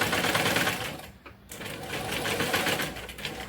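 A sewing machine stitches lace onto a blouse, its steady rapid needle chatter running continuously with a brief pause in the middle.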